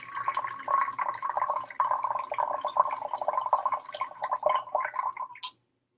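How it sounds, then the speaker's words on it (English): Coffee poured from a French press into a cup, a steady liquid trickle with dripping and gurgling, close and alone, stopping abruptly near the end. "can actually start pouring coffee"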